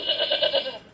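A cartoon goat from the Stanley Farm Fresh game gives a brief, wavering bleat of a few quick pulses, clear and close with nothing else around it.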